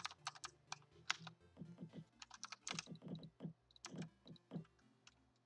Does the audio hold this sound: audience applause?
no